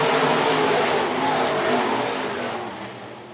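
A modified race car roars past at Phillips County Raceway, its loud engine note sweeping by and fading away over a few seconds.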